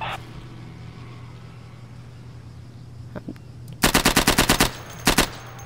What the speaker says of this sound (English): Can you hear the gunfire?